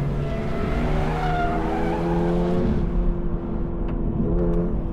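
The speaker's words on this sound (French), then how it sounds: "on arrive à faire déboîter l'arrière de la voiture à l'accélération" Toyota GR86, a rear-wheel-drive coupe, slides its tail out under acceleration with sustained tire squeal over a rising engine note, loud and close, no voices.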